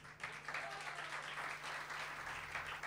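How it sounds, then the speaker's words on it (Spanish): Concert crowd at the BajoBar venue applauding the sound engineer, continuous even clapping over a low steady hum. "Quiero también pedir un fuerte aplauso"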